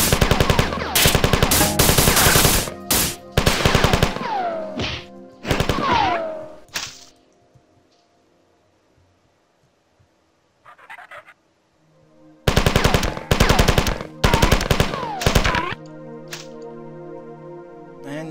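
Machine gun fire in the Marathon video game rattles out in dense, loud bursts at the start and again near the end, with a quiet stretch between.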